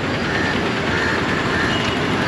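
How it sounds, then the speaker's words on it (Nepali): A train rumbles past near Trivandrum railway station, a loud, steady mechanical roar with a faint high hum layered over the busy station-area ambience, continuous throughout. "यो त्रिवेन्द्रमको रेलवे स्टेसन यही हो"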